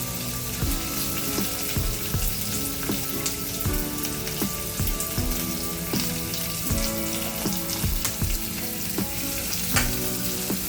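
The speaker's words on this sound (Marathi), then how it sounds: "आपला कढीपत्ता घालून झालाय, आता मी हे कांदा घालते" Onion frying in hot oil with curry leaves, a loud continuous close sizzle and crackle with bubbling spatter, underlaid by faint tonal background music, no speech.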